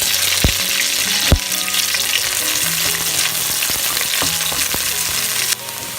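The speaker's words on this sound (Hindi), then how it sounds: "मैं डाल रही हूँ अनियन। अनियंस को हम 4 to 5 मिनट्स तक सॉटे करेंगे" Onions in olive oil in a kadhai on high flame give a loud, steady frying hiss, with a couple of sharp knocks from stirring and a slight drop in the sizzle near the end.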